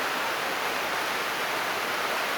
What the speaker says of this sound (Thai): น้ำไหล น้ำไหลน้ำออก